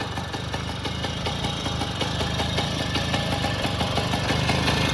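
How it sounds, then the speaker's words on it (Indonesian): A 1962 Zundapp Combinette 50cc two-stroke moped engine idles steadily nearby, a continuous rapid chugging rattle with no talking. "Jadi ini untuk suara mesinnya. Saya gas sedikit."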